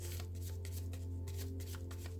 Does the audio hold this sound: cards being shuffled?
yes